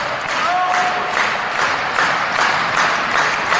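Wrestling crowd applauding at a live match, a steady wash of clapping and cheering that holds at a full, even level throughout the few seconds.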